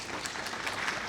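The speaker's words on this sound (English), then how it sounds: "Give him a huge round of applause, everyone." Brief burst of audience applause at a mushroom industry summit session in India, a steady wash of many hands clapping, moderately faint and continuous throughout.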